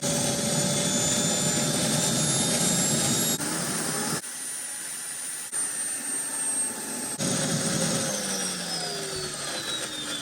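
Close recording of a Jakadofsky Pro Edition jet turbine engine running up from idle. A loud whining roar with rising high-pitched tones dips briefly mid-run, then surges back with sweeping pitch changes.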